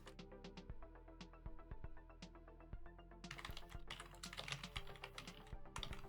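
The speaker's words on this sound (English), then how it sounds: "I hadn't actually realized you could hear me typing." Fast, irregular tapping on a computer keyboard close up, with crisp individual key clicks and brief pauses, then a denser flurry of keystrokes; no talking.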